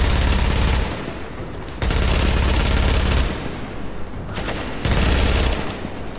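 Gunfire in a speed-run video game rattles in loud, dense bursts of rapid fire, three long volleys separated by brief lulls, with no talking.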